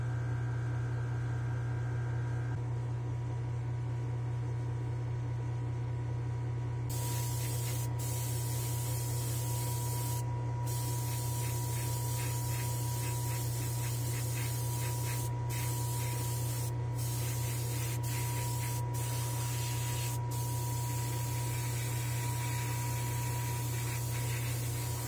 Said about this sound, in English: I'll meet you in the spray booth and we'll get this white done